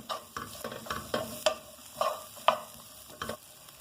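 Onions and green peppers sizzle and scrape in a pan, with a spoon stirring in repeated strokes over a soft frying hiss, close and fairly quiet with no talking.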